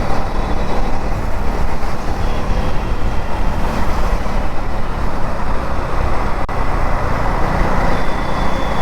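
KTM Duke 390 Gen 3 motorcycle pulling hard in 5th gear under opened throttle: a continuous, loud engine drone blended with heavy wind and road roar, steady throughout.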